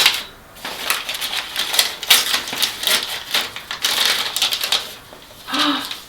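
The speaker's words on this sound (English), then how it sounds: "I'm going to unwrap this first." A small package is unwrapped nearby, its paper or plastic crinkling and tearing in bursts of rustle separated by short quiet gaps.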